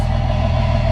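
A bus engine idles through a 6-inch exhaust, a steady, loud low rumble with an even pulsing throb that carries unchanged through the whole second, with no other sound over it.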